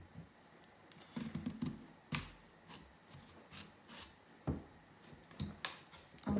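A knife cutting through a raw beetroot, a series of soft, close crunching cuts with short pauses between them, faint and without any talk.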